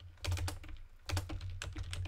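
Quick clusters of keystrokes on a computer keyboard clatter in three bursts with short pauses between, close and fairly loud with no voice over them.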